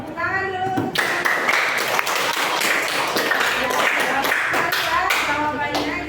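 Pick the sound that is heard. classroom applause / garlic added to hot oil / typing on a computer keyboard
classroom applause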